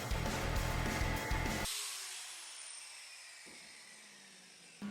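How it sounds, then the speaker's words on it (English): An angle grinder grinds steel welds flat on a material storage rack, a loud dense roar for under two seconds, then a long fading whine as the disc spins down alone. "I do have to grind the welds flat where the shelves are going to sit"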